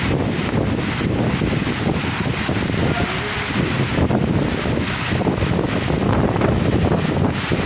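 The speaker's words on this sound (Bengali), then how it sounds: "দেখুন ঝড়ো বাতাস কী হচ্ছে।" Strong gusting storm wind roars continuously and loudly during a rainstorm in Dhaka, buffeting the microphone with a dense, rumbling rush.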